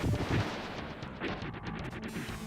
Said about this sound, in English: And they just needed a really big explosion.